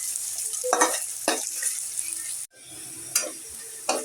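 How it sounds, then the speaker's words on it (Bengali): Onions with salt fry in a pan for a shrimp and lentil fritter dish, a continuous bright sizzle broken by several close scraping stirs of a spatula. "পেঁয়াজটা আমি ভালো করে ভেজে নেব।"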